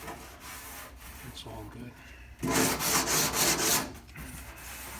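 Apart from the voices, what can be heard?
spreading bondo body filler over spot welds on car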